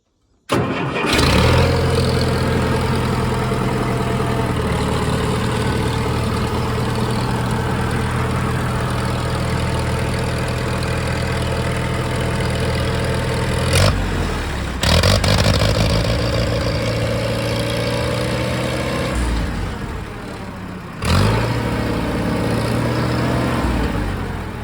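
Allis Chalmers 170 tractor engine cranks and fires, then settles into a loud, steady close idle, with a couple of brief dips and stumbles before it picks back up and keeps running evenly.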